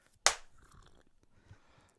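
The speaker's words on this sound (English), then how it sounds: "Here's a quick clap." A single sharp hand clap, close and clean, rings out once in a quiet room and fades quickly, leaving faint low background noise.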